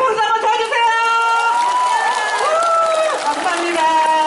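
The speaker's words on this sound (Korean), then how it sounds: "여러분 다시 한번 크게 박수 한번 쳐주세요" Concert audience applauding and cheering for a trot singer in her hometown, a dense, loud wash of clapping and crowd noise that fills the whole stretch, with voices mixed in.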